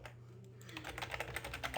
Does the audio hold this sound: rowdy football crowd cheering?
no